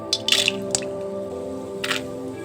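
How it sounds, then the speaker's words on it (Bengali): Peanuts fry in hot white oil in a pan, ready for chow mein, with a few sharp crackling pops and sizzling bursts over a steady low background, close by. "ওদিকে আমার বাদামটা ভাজা হচ্ছে"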